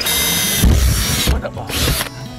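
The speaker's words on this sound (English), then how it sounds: "Now we'll take our drill again and we'll make a pilot hole so that we can get our saber saw in there." A power drill bores a pilot hole for a saber saw blade, its motor whine loud and close in two bursts separated by brief pauses.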